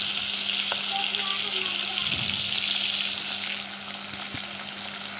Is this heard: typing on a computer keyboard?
no